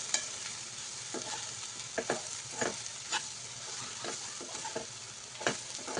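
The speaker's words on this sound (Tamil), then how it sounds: "இப்போ இது எல்லாத்தையும் நல்லா வதக்கி விட்டுக்கலாம் ஒரு நிமிஷம்." Boiled potatoes and onions sautéed in a pan, stirred with repeated scraping strokes of a spoon over a continuous low sizzle, close and without voices.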